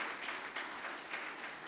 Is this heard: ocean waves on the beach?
no